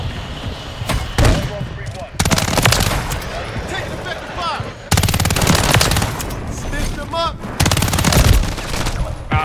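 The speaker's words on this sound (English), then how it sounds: "Bro, I can hear the gunshots." Rapid bursts of loud automatic gunfire come in several volleys separated by short pauses, with game-like effects mixed in.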